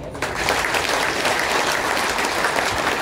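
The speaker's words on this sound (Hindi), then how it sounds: "धन्यवाद के रूप में एक बार जोरदार तालियां।" A crowd applauding at an ex-servicemen rally in a stadium in Lucknow: loud, dense clapping from many people that breaks in after a brief quiet start and holds steady to the end.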